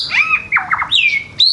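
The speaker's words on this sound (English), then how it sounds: "There he is, old Tweety bird" Loud, close bird calls at night in Hoi An, Vietnam: a series of sharp squawking chirps with fast sweeping notes, a few bursts in quick succession with brief gaps.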